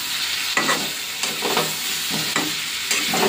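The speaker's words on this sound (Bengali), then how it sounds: "তো চলো ভালো করে এখন কষিয়ে নিই" Ginger, onion and grated garlic sauté in a pan with a steady sizzle, broken by several stirring scrapes spaced about half a second to a second apart, close and moderately loud.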